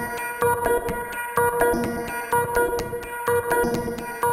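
A synth melody, duplicated and transposed higher, plays a repeating pulsing pattern of bright tones with regular rhythmic hits, heard on its own at moderate level.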